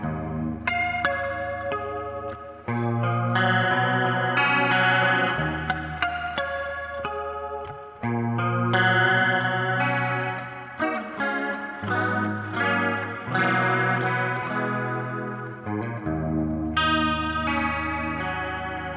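Clean electric guitar with a lush chorus effect from a Valeton GP-5 preset plays a melodic passage of chords and single notes. It is steady and moderately loud, with no voices.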